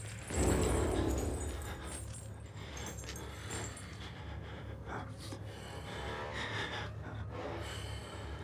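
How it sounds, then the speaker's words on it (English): Heavy, gasping breaths from a character in the Outlast horror video game, close and ragged over a low ambient rumble, with no speech. "Dude, you breathing too loud."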